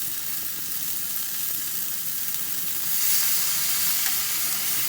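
Food frying steadily in a hot pan over a fire, a continuous close sizzle and crackle that swells slightly louder toward the end, with no voices.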